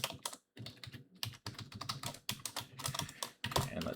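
Rapid typing on a computer keyboard while filling in a signup form, with dense clattering keystrokes in quick bursts and a few short pauses between them, close and clear, with no talking.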